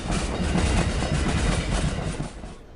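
The Southwest Chief passenger train rattling along its rails at a good pace, heard from inside a carriage as a loud, steady roar with rhythmic clickety-clack from the wheels, easing slightly at the end.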